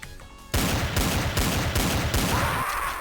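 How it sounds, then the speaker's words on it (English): Rapid repeated Desert Eagle pistol gunshots fire in a DOOM Zandronum mod game, loud booming reports in quick succession after a brief quiet lead-in with faint game sounds. "Deagle, it's kind of weak for a Deagle"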